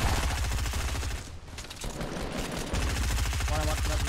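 Rapid automatic gunfire in the video game Fortnite, bursts rattling loudly in the foreground with a brief lull midway before firing resumes.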